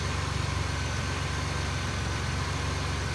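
Engine of a 2002 Grand Prix car idling after five years of sitting, a steady low rumble with a faintly uneven pulse as the idle air control hunts, close and alone.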